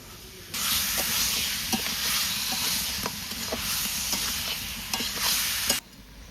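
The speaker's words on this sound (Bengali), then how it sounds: "আদা রসুন পেঁয়াজ দিয়ে চিকেনটাকে সুন্দর কষানো হয়ে গেছে।" Chicken frying with ginger, garlic and onion, a loud hiss that starts suddenly and runs steadily, punctuated by repeated stirring scrapes and spoon taps before cutting off abruptly.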